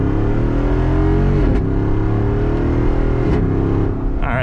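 A 2022 Jeep Wrangler Rubicon 392 V8 accelerates hard at full throttle, a loud, close, continuous engine roar with rising pitch and brief dips at gear changes.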